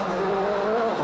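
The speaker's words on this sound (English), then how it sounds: "The Ford-man's already fighting to control the car as he struggles for grip." A Ford World Rally car struggles for grip on loose gravel at Rally Mexico 2011, its engine note rising briefly in a strained, revving burst that is close and fairly loud.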